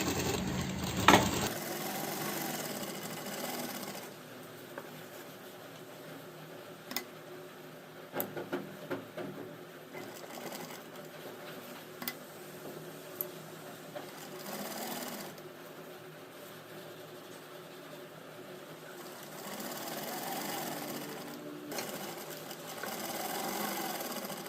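A sewing machine stitches a velvet pheran in a steady, continuous mechanical whir with light intermittent clicks and taps, close and moderately loud throughout.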